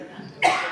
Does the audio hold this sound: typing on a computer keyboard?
no